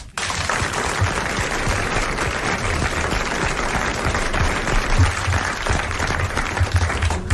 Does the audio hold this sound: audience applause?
yes